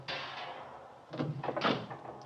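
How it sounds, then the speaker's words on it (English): A door in a cheap room is opened and a folding bed is pulled out from behind it, giving a close wooden clunk and then a burst of scraping and rattling. "there's a folding bed behind this door"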